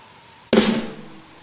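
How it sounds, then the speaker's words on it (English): A single drum flam at the half-second mark, two strikes blurred into one sharp, loud note with a bright attack and a ringing tail that fades slowly, heard alone with no talking. "So a flam it's essentially 1 hit, but you're using 2 strikes."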